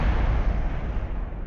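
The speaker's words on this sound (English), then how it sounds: "Big explosion, but no worries, we're gonna fire away anyways" A rocket explosion in the Kerbal Space Program video game, heard as a loud, booming, rumbling blast that fills the whole stretch and then slowly thins, with no talking.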